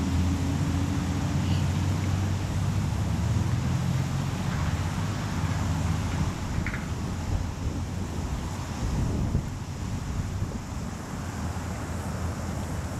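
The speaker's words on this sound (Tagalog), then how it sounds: "Talagang dito sa Wellington," Strong wind buffets the microphone outdoors in Wellington, a continuous loud roaring rumble with gusty surges throughout and no other clear sound.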